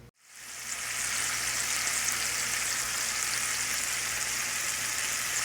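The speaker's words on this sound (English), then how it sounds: "I got the chorizo in the pan. It's starting to sizzle" Chorizo sizzles in a frying pan over medium-high heat, a steady dense crackle that rises within the first second and then holds loud and even, with no talking.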